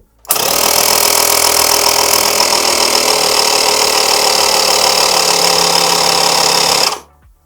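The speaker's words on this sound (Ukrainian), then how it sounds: "Так, ну вмикаємо і послухаємо, як працює він, і перевіримо функцію автостоп." An AMIO ACOMP-17 portable car air compressor runs steadily for about seven seconds, a loud, close, buzzing motor hum with rapid piston chatter that starts abruptly and cuts off at the end.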